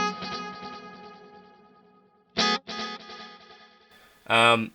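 Electric guitar played through a Helix delay with sine-wave modulation: sustained chords ring out and fade in wavering, darkened repeats, with sharp new strums cutting in twice.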